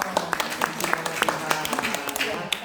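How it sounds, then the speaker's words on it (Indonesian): A church fellowship gathering gives a short round of applause for a young girl, scattered distinct hand claps from a modest group, fairly close and uneven over a couple of seconds. "Kita beri tepuk tangan."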